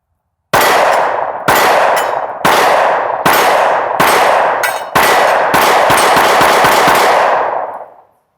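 A Sig Sauer P365 pistol fires Federal 115 grain full metal jacket practice rounds, about a dozen loud, sharp shots in a steady string that quickens toward the end, each ringing out briefly before the next.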